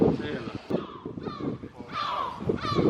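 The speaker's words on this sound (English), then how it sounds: "all the seagulls are kicking off pretty big" Gulls calling loudly near a parked car, raucous harsh cries repeating in bursts across the clip, mixed with people talking close by.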